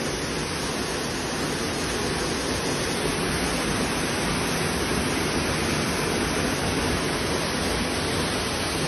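A steady, dense rush of falling water fills the whole clip, loud and unbroken, heard from close by at the top of a waterfall in Aceh Besar, with no voices.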